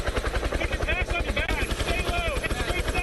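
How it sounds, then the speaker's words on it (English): Rescue helicopter landing in snow in the Red River Gorge wilderness, its rotor thumping in a fast, even pulse close by, with voices talking over the steady chop. "Seconds after the chopper touches down"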